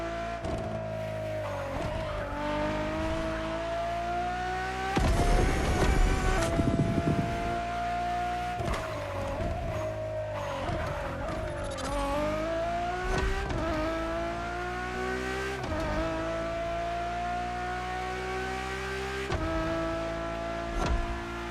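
A Ferrari road-and-track car races in The Crew Motorfest, its engine climbing and dropping through gear changes with tire squeal and a harsh scraping burst midway, loud and continuous with no talk.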